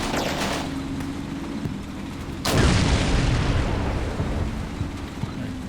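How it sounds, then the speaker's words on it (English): A tank shell hits a building in Combat Mission: Black Sea with one abrupt heavy boom that rolls into a long rumbling decay, set over a steady low engine drone. No voices. "I'm going to move this tank in and reduce the structure over here in the center"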